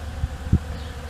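Honey bees buzzing in a bee yard, a steady low hum with a couple of brief, slightly louder swells as individual bees pass close.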